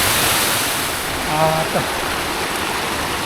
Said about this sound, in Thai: ยังมีน้ำไหลอยู่